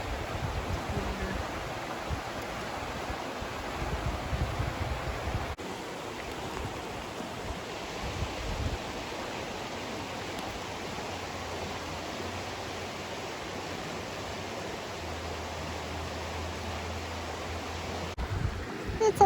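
Deer Creek water flowing steadily in a state park among bluebells, a continuous broadband rush with no break, moderately loud and close, with no one talking.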